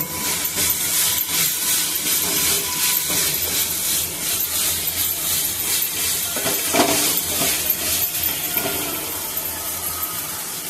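Curry leaves fry in oil with a steady, loud sizzling hiss that holds throughout, with occasional faint scrapes and no talking.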